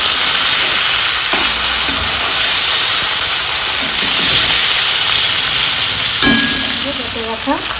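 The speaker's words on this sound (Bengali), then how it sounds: "পেঁয়াজটা ভাজা হয়ে গেছে। এবারে দিয়ে দিব মাছ," Tangra and pabda fish sizzle loudly in oil with onions and tomato in a pan, a dense close hiss that stays strong throughout, with a few stirring scrapes and a faint voice near the end.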